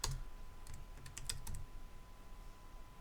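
Quiet, quick keystrokes on a computer keyboard while text is entered in Blender 2.69, a short burst of clustered taps followed by a few scattered presses, with no voice.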